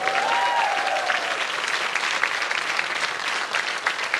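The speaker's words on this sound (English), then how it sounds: "give me a round of applause." An audience at the We the Women event at Riverside Studios in London breaks into dense, sustained applause. The clapping is full and even throughout, with a brief tonal whistle-like sound early on.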